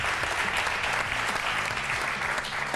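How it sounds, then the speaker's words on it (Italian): A studio audience claps steadily for the Parma president joining a football talk show by live link, a dense, even burst of applause with no gaps. "un bel applauso"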